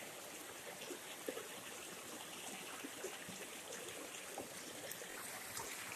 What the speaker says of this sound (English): Anyway, I came back to the river.